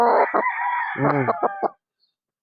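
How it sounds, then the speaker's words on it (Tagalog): A rooster crows up close in a long, loud call with several rising and falling segments, then cuts off into near silence before a brief final note. "Guwapong manok."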